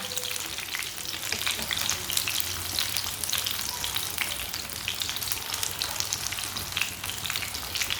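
Green chilli pakoras fry in hot oil with a steady, dense sizzle and occasional stirring, the crackle continuous and fairly close throughout.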